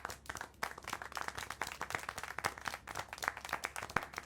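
Applause and clapping in the video game Syberia The World Before: a rapid patter of many hands, moderately close, steady across the whole stretch with no talk over it.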